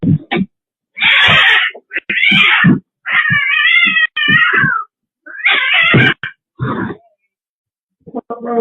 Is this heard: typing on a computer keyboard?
no